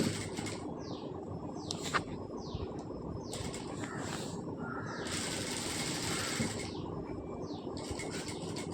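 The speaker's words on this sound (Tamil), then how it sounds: "இப்போ நான் உங்களுக்கு ஸ்டிச் பண்ணிவிட்டு காமிக்கிறேன்" A sewing machine stitches fabric pieces together, a steady mechanical whir broken by short high swishing sweeps, moderately loud and continuous with no talking.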